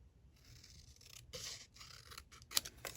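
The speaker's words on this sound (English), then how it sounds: "I'm going to just go along with the snips." Snips cutting through paper or cardstock for a stamped card project, with a few close, quiet crisp snipping and scraping strokes in a quiet room.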